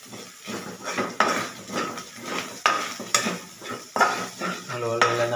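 Onions sizzling in a pan for adobong sitaw, stirred with a utensil that scrapes and clanks against the metal in irregular bursts, close and fairly loud over a steady frying hiss.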